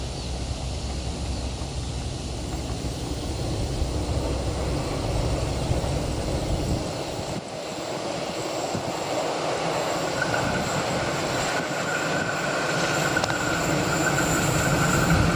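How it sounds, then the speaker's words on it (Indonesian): The Argo Wilis passenger train runs fast over the rails on a mountain descent, a loud, continuous rumble of wheels and carriages with shifting rattles and faint squeals, heard from on board with no talking. "Kereta api Argo Wilis."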